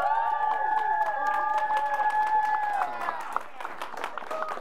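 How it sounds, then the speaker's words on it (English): A sports show audience cheers for Josh: loud sustained shouts and high whoops with scattered clapping, fading into lighter applause toward the end. "cheer the loudest if you think the winner was Josh"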